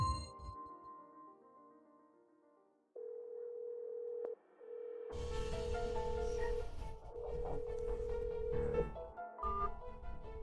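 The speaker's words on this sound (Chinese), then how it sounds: "我现在拨回去，如果你的手机响了" A mobile phone call placed back to another number gives a steady electronic ringback tone in repeated long beeps. A brighter musical ringtone then starts over dramatic background music, close and fairly loud, and no one speaks.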